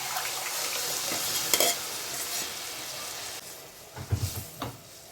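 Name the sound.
moong dal added to fried spices and stirred in hot oil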